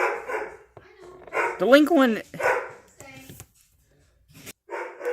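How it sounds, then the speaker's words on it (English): Several dogs bark in the background of a room, with short bursts of barking and yips cutting in around the middle while a person talks close by throughout. "My dogs are barking."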